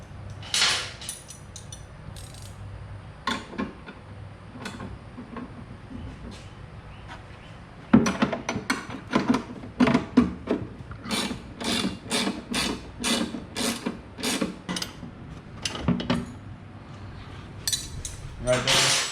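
Bolts being tightened on motorcycle saddlebags, Deviant Fabrications bags fitted to a Harley FXDP: a series of short metallic ratcheting clicks and clinks in uneven bursts. The clicks come close and fairly quiet, thickening in the second half.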